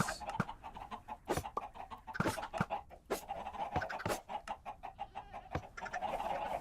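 Chickens in the Minecraft video game, cluck and squawk repeatedly in short, sharp bursts over a steady low game ambience, with no talking.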